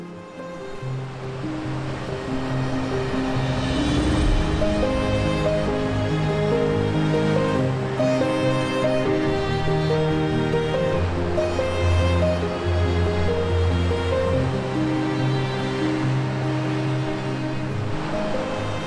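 Sea water swirling and surging around rocks below a cliff, a continuous rushing wash of surf heard from above, fairly loud and steady with rising and falling swells.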